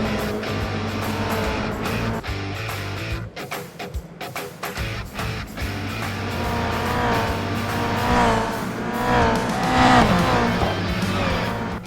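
Toyota GR86 race cars in the iRacing game roll toward a rolling start in light drizzle, a pack of engines droning and revving together, with rising throttle whines and some tire noise building steadily.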